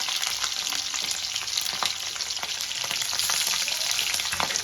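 Bay leaf, whole cumin and slit green chillies sizzle in white oil in a kadai, a steady, dense crackling hiss with faint pops, close and continuous with no voices.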